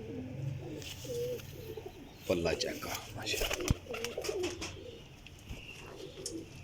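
Pigeons in a loft coo in low, rolling, repeated calls close by, alongside some wing flutters and clattering movement, while someone talks over them.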